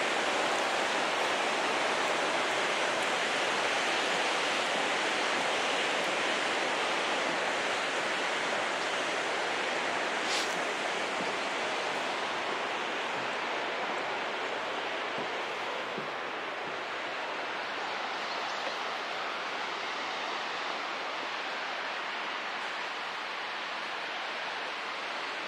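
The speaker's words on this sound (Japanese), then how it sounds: "平野に現れる原尻の滝" Harajiri Falls, a waterfall on a plain, roars steadily throughout, a constant rushing wash of falling water with no voices.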